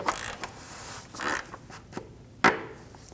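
Plastic oil filter cap on a 2.5L five-cylinder Volkswagen Passat being snugged down by hand, a few close creaking, ratcheting turns with one sharper click near the end.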